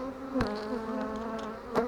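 Honeybees buzzing at an open hive during a sunflower bloom, a steady close drone with a couple of louder passes as individual bees fly near.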